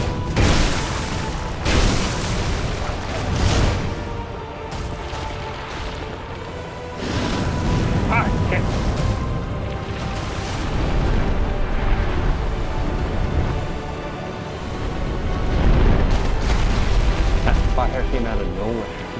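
Fire spell bursts in the dark fantasy game Dark Souls 2 during a fight with a poisonous blight creature, several loud whooshing roars and booms swelling and fading over a dense game mix, with a voice talking over it.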